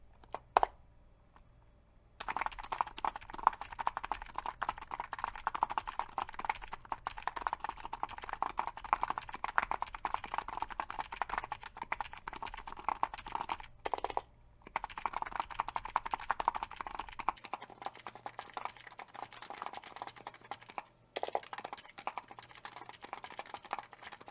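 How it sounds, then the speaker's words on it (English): Fast, continuous typing on an electro-capacitive keyboard with muted, thocky keystrokes, close up, broken by a couple of brief pauses. "I'm actually quite happy with the sound and feel of this keyboard"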